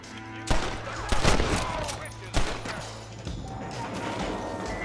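Gunfire in Red Dead Redemption: several sharp, loud gunshots with echoing cracks spread over a few seconds, over a busy background of game ambience.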